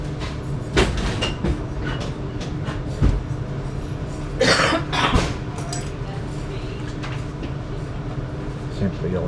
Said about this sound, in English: that Ipswich train is leaving ahead of us.